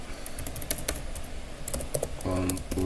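Typing on a computer keyboard, a quick run of sharp, close key clicks with a firmer press of the enter key, while a voice speaks softly in the background.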